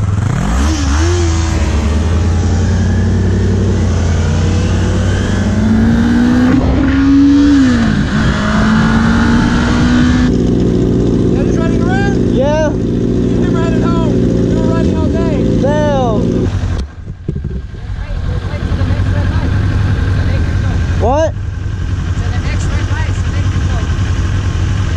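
A motorbike on the road revs and accelerates loudly through shifting engine pitch, heavy wind buffeting the microphone, with riders talking over it.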